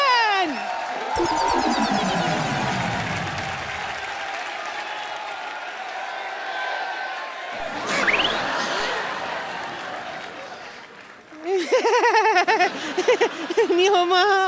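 A studio audience on a comedy show bursts into loud, sustained applause and cheering to welcome Hollywood action star Jackie Chan. The clapping runs throughout, with swelling crowd noise and a louder surge near the end.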